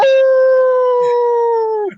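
A man imitates a wolf howl with his voice during a football talk show, one loud sustained wavering note lasting nearly two seconds before cutting off, heard alone without talk.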